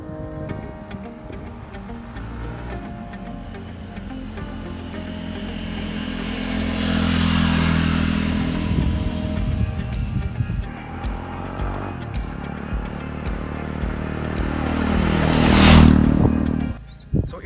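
A 2018 Jawa Classic motorcycle with a 293cc single-cylinder engine of about 27 bhp runs steadily, its rumble swelling with revs midway and again near the end before a sharp drop, with ticking mechanical clatter throughout.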